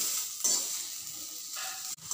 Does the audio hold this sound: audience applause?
no